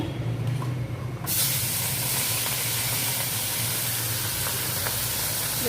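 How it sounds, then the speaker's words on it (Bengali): Puti fish frying in hot oil in a wok: a loud, steady broadband sizzle suddenly erupts after a quieter moment and then hisses continuously without letting up. "এবার একে একে মাছগুলো আমি কড়ার মধ্যে দেবো, দিয়ে ভেজে নেব।"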